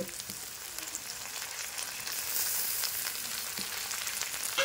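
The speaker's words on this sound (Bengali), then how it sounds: "এই নরমটা থাকতে থাকতে আমি এর মধ্যে কুচিয়ে রাখা টমেটো দিয়ে দেব" Chopped tomato going into softened onion in a hot pan, setting off a steady, close sizzle of frying that swells slightly partway through, with a few faint clinks of a spoon against the pan.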